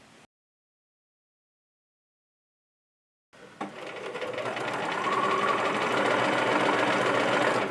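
Sewing machine stitching a half-inch seam on a small wallet, starting after a few seconds of silence with a click, then a steady close mechanical whir that builds and holds.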